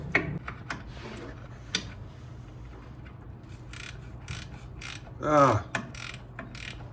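A ratcheting wrench loosening brake booster bolts on a 1974 Dodge Ramcharger, with scattered clicking ratchet strokes and short metallic turns, close up, plus a brief spoken exclamation.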